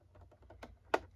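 An optical cable plugs into a WiiM Pro hi-res streamer, giving a faint rustle and light tapping that ends in one sharp, close click.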